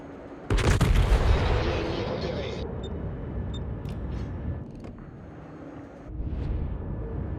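Heavy boom of naval gunfire in the warship battle game World of Warships, a loud deep blast that rumbles and fades over a couple of seconds, with lighter game sounds and another low swell afterward.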